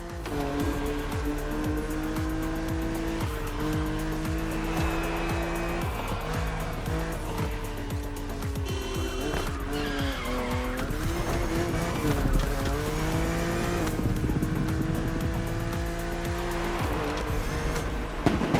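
A BMW cruises an open road in The Crew Motorfest racing game, its engine droning steadily throughout with shifting pitch and tire noise, layered over continuous background music with no talk.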